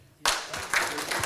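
Audience applause at the RANA International Rajput Conference family convention, a short burst of clapping that starts abruptly and holds steady at moderate loudness.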